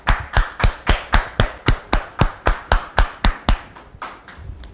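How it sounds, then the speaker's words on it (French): Steady rhythmic clapping from a crowd, about fifteen even claps before it fades out, loud and close with no talking. "On la reçoit sous vos applaudissements."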